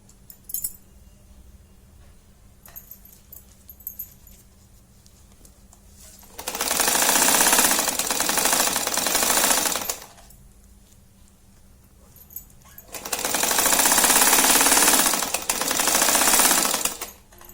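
A sewing machine stitches a zipper onto a small fabric coin pouch in two loud, fast-rattling bursts of a few seconds each, separated by quieter pauses with light handling clicks.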